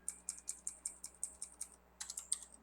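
A computer keyboard gives a quick, even run of about a dozen crisp key clicks, then a short pause and a tighter burst of several more presses, close and clear over a faint background hum.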